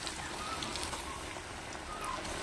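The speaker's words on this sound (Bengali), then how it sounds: "কয়েকটা ফিঙ্গার এবারে গরম তেলে ছেড়ে দিচ্ছি" Cabbage fingers dropped into medium-hot oil in a kadai give a steady, close, hissing sizzle that carries on without a break, with no voices over it.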